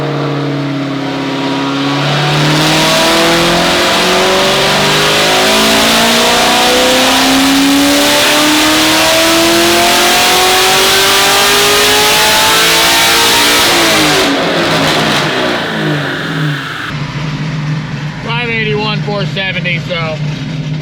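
A Chevrolet LT1 V8 fitted with an MSD intake manifold revs through a full dyno pull. It climbs loud and steady through rising engine harmonics, then cuts off abruptly, leaving a lower idle-like rumble with some chatter over it near the end.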